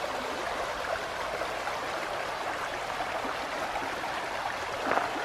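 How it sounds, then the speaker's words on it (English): Running river water flows through a green desert hot springs oasis, a steady full wash of stream noise that holds even for the whole stretch, with a brief splashy swell near the end and no voices. "all this running water"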